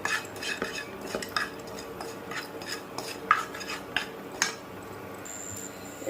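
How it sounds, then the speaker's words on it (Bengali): A spoon scrapes and clinks against a pan while turmeric and salt are stirred into mango chutney, with irregular soft metallic taps and scrapes over a quiet kitchen background. "তারপর এটা ভালো করে নাড়িয়ে নেব"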